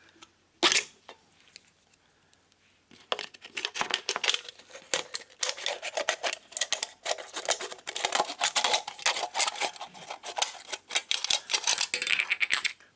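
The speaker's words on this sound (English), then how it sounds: "Cut the bottom off the can." Scissors cut the bottom off a metal can, a quiet click followed by a rapid run of dense crunching, snipping and crinkling sounds, close up with no speech.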